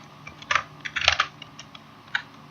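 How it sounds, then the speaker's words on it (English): A few soft keys are tapped on a computer keyboard, with scattered clicks close by over a quiet background and no voices. "So let's type in."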